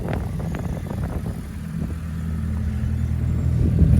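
A BMW E36 with a K24 engine swap and turbo idles nearby, giving a low, steady rumble that swells slightly toward the end, with a few faint knocks early on.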